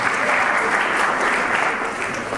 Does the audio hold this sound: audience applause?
yes